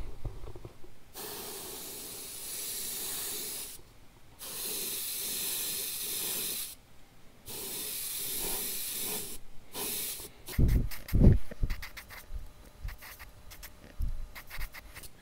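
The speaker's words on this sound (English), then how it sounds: "we're gonna just spray the whole body except the belly" A crankbait lure body is spray painted purple: an airbrush hisses in three long bursts with short pauses, followed by quieter handling clatter and knocks.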